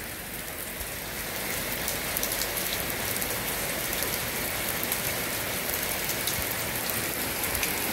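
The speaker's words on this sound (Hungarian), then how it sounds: "Pattog a jég." Freezing rain mixed with ice pellets patters and bounces densely on outdoor surfaces in Tória in late May, a steady, close, hissing rattle that stays loud and unbroken throughout, with no talk.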